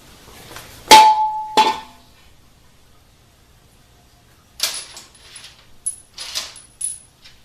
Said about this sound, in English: now we put our bell housing on it